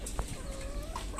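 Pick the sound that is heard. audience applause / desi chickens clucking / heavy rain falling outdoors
desi chickens clucking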